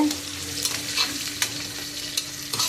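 Mustard seeds spluttering in hot oil for a bottle gourd and drumstick gravy, a steady sizzling hiss broken by several sharp pops, close and clear with no talking.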